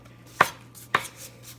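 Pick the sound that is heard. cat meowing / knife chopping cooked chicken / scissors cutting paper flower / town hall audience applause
knife chopping cooked chicken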